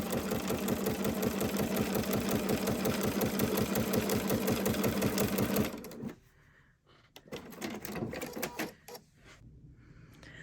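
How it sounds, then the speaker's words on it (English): A sewing machine runs a straight stitch on a crossbody bag in a steady, rhythmic mechanical chatter for about six seconds, then stops, leaving scattered clicks and handling sounds. "I'm just going to continue with a straight stitch"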